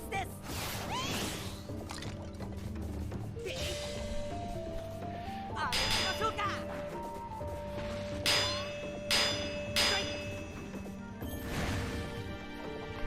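Metallic bell-like clangs and dings ring out over a busy Sengoku Basara 4 battle scene, with several bright strikes around the middle and end amid constant game noise.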